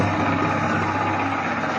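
Electric motors driving gearboxes in a small home-based production setup run steadily with a low, even hum and drone throughout, close and continuous with no voices.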